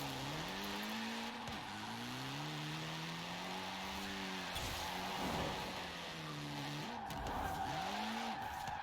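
A Triumph TR7 drifts in the video game Forza Horizon 4. A droning engine note bends and dips as repeated tire squeals and skids cut in, loud and continuous, with no talking.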